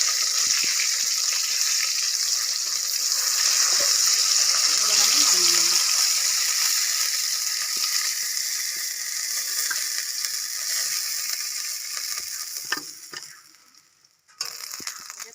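Fish pieces frying in hot oil in a pan, a steady close crackling sizzle with faint stirring and clinks, easing and briefly dropping near the end before resuming.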